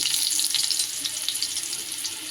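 Panch phoron spices, asafoetida and crushed garlic sizzle in hot oil as a dense, continuous, hissing crackle, loud and close throughout.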